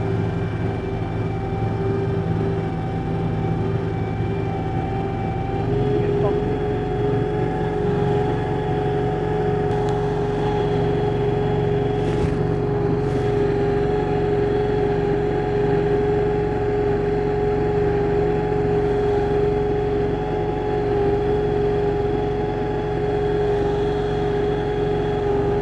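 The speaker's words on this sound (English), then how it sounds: "Set the wheels rolling. Feels quite soft, doesn't it? I think we're on quite soft sand." A Sealegs 9.0m Hydrasol amphibious boat creeps on its wheels over soft sand, its engine holding a steady, close droning hum with constant tonal whine throughout and no talk.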